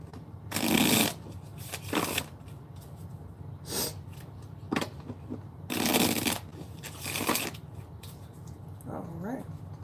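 Tarot cards being shuffled close by, several short riffling bursts spaced a few seconds apart, with quieter card handling and soft breathing between them.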